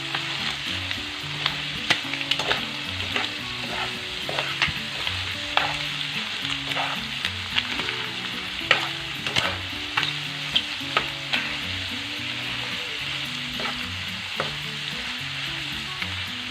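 Octopus curry with salt, tomato, mustard seeds, ginger, pandan and curry leaves sizzles in a pan while being stirred, a steady frying hiss broken by repeated scraping and clinking of the spoon, close and continuous.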